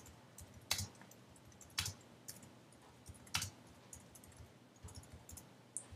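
Computer mouse clicks on an Apple Mac in iMovie '09, a few sharp isolated clicks spaced about a second apart against a quiet room, with fainter small taps between them.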